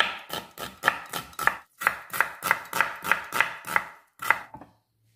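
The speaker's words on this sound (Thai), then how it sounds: "อันนี้เราจะมาหั่นเต๋าค่ะ" A knife dices beetroot on a cutting board in a quick, even series of about a dozen sharp chops, close and clear, with a brief pause midway.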